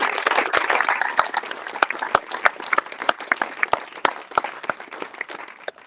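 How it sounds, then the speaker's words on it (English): Audience at the X-Alps 2023 press conference in a Kitzbühel Ski Club house gives a round of applause, a modest crowd clapping with distinct individual claps that thin out toward the end. "I'm asking a big round of applause to Jan Überall, the General Secretary of the Kitzbuhler Ski Club"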